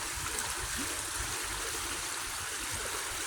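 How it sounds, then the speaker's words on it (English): Coldwater Creek rushes steadily after light rain, with broadband water noise and low gurgling close by, running continuously without pause. "Get this creek going like crazy."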